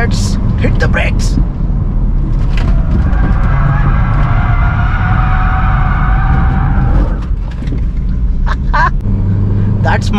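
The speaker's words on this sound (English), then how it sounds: "Let's hit the brakes." A BMW 320d brakes hard on a race track, its tires squealing in a sustained whine over engine noise for several seconds before easing off, with voices talking over it.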